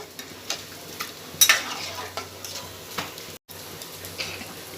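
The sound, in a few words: curry boiling and sizzling in pan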